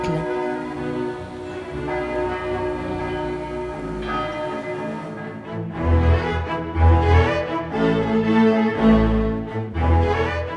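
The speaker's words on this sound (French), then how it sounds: "le clocher de l'église Saint-Jean, dont la cloche carillonne depuis plus de 3 siècles" The bell of the Saint-Jean church in Luxembourg City rings out loudly with rich, sustained tolls, layered strikes ringing on and swelling in its second half, heard alone.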